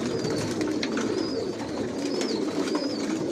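Racing pigeons of a Johnson bloodline coo in a loft, with soft repeated calls close by over a steady background murmur of many birds, and no one speaking.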